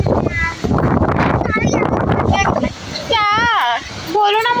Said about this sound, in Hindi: काफ़ी ज़्यादा हवा चल रही है गांव में